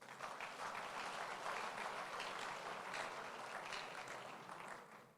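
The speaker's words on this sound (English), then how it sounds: "I guess you all deserve a hand of applause." Audience at an event gathering gives a round of applause for the organizing team, a soft, continuous, fairly distant patter of many hands that swells mid-way and tapers off at the end.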